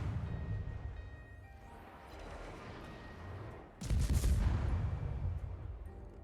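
Destroyer guns fire in the naval game World of Warships: a low rumbling battle bed swells into a loud, sustained burst of cannon fire near the end, with no voices over it.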